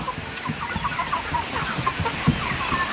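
Tiger chickens on a poultry farm cluck repeatedly at close range, with overlapping short calls from several birds in a busy, continuous flock chatter.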